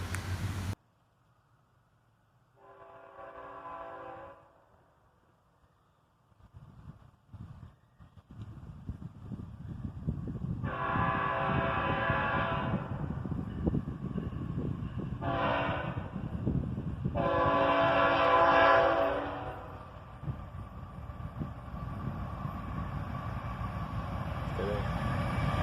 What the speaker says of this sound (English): And a quick horn salute from the engineer